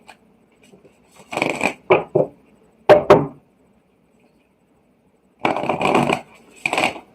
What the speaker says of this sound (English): you guys prefer to see the deck shuffled, so I'm going to shuffle that deck for y'all.